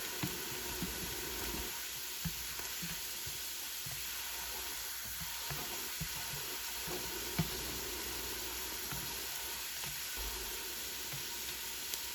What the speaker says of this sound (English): Add in your chopped garlic.